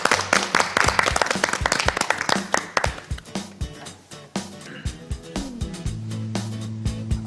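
A studio audience claps during a live Korean television program. The applause is dense at first, then thins to scattered claps as sustained musical tones fade in.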